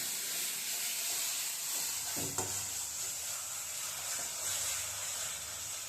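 Masala roasts in oil in a pan for a mushroom curry, a soft continuous sizzle with a brief scrape of stirring midway, faint and close, no voices.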